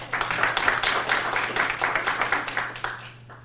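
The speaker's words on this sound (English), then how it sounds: "Please give him a round of applause." Sustained applause from a conference audience, dense overlapping claps at an even level that taper slightly at the end, with a steady low hum underneath.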